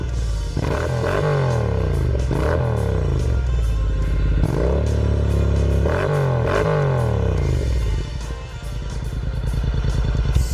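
A Honda NM4 Vultus motorcycle engine revs repeatedly, each throttle blip rising and falling over a deep, loud rumbling idle, close by, with the revving easing near the end.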